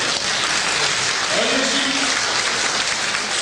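Applause from a theatre audience during a French stage comedy, a steady broadband patter of clapping hands filling the whole stretch at even loudness, with a faint voice briefly audible mid-way.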